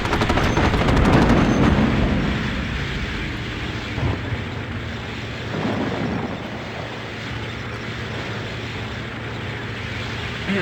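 Artillery and gunfire in the video game Sudden Strike Forever, set during street fighting in Stalingrad: dense bursts of shots and booms in the opening seconds, then a steady rumbling battle bed with a few isolated impacts further off.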